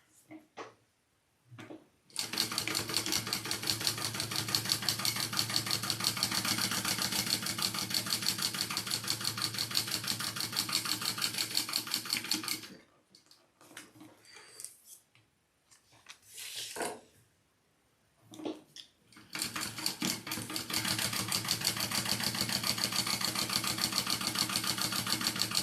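A home sewing machine topstitches crossbody bag pieces in long, rapid, rattling runs, pausing and restarting in short bursts midway before a final steady stretch, close and loud with no talk.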